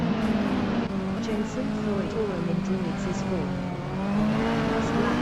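Clubman championship race cars lapping at race speed on a circuit, their engines droning loud and continuous with shifting pitch under an excited commentator's voice.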